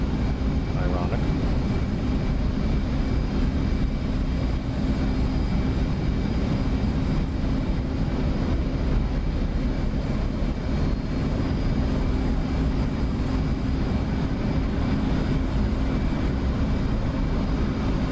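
Simulated F/A-18E/F Super Hornet jet on a carrier deck in DCS, a steady loud broadband engine roar and rumble held throughout without break.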